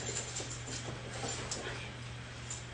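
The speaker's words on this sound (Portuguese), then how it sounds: "é o meu cachorro, gente" A pet dog named Hati whimpers softly nearby, giving several faint, high, thin squeaks at irregular intervals over a steady low indoor hum.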